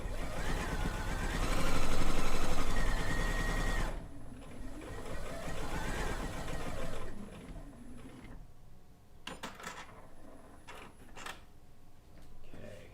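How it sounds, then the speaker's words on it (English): A sewing machine stitches through the layers of a quilt binding, running steadily and loudly for a few seconds, then easing into quieter, intermittent whirring with short clicks and handling noises. "I'm going to sew through all the layers"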